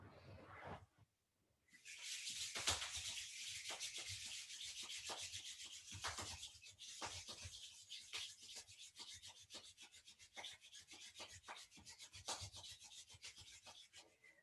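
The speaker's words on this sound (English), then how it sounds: "rub the soles of our feet against each other. And at the same time, rub your palms against each other" Steady dry rubbing of bare feet soles and palms against each other during a kundalini kriya exercise, a continuous close swishing friction that starts after a brief pause and carries on evenly with small pulses.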